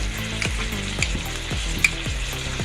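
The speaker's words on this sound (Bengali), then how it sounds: "কর্নফ্লাওয়ারটা আমি দিয়ে দিলাম।" Cornflour slurry is stirred into sizzling chicken manchurian gravy in a pan, with a steady close bubbling sizzle and a series of rhythmic scraping stirring strokes roughly every half second.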